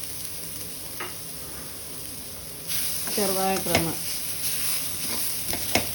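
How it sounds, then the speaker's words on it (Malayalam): Grated coconut roasting in ghee in a pan, a soft steady sizzle with a few stirring scrapes, close and fairly quiet, while someone speaks briefly over it. "ഇത് നമുക്ക് ചെറുതായിട്ടൊന്ന് വറുത്തെടുക്കാം."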